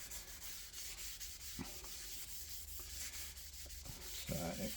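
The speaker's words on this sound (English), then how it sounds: "So I've been scrubbing that now for a couple of minutes" Steady abrasive rubbing as a stainless steel exhaust pipe from 1987 is scrubbed with Harpic, a continuous close scouring hiss with a few brief knocks and a louder burst near the end, no talk.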